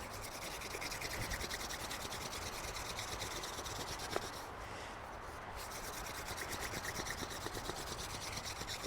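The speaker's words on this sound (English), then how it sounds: "Spindle is not supposed to be that hard to spin." A wooden spindle is twisted hard against a wooden board to build a friction fire, giving a steady, close rubbing and scraping that runs throughout, with one brief sharp click midway.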